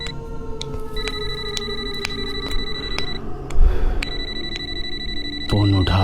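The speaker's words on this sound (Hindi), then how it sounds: "ऑफिस फोन अपने आप बजने लगता है" An office telephone kept at home rings with repeated bright electronic trills that start and stop, over a steady low drone, with a deeper tone coming in near the end.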